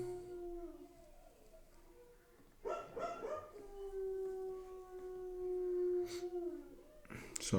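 A dog howls indoors in long, sustained wavering tones that rise and fall over several seconds, fairly close and loud, with a brief break midway before the howl resumes.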